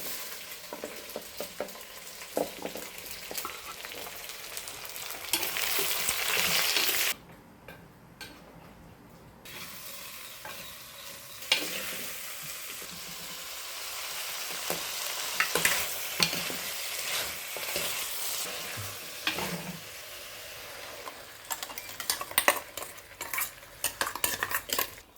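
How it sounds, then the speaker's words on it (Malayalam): Cut ash gourd pieces tipped into a hot pan for buttermilk curry and stirred with a metal spoon, giving a continuous sizzle under repeated close scraping and clinks against the pan, with one short quieter pause early on and no talking. "ഇനി നമ്മൾക്ക് മുറിച്ച് വെച്ച കുമ്പളങ്ങ ഇതിലിട്ട് കൊടുക്കാം."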